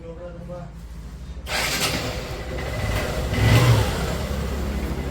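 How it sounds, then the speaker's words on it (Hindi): A Honda Shine motorcycle engine, freshly repaired after a timing chain noise problem, starts up and runs steadily close by, its mid-pitched hum rising slightly partway through. "तो अभी सुन सकता है इंजन का साउंड।"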